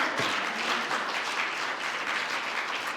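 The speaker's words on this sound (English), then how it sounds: "You can clap." Audience at an annual MLK celebration poetry and performance event claps in a dense, even wash of applause, somewhat distant and moderately quiet, lasting the full few seconds.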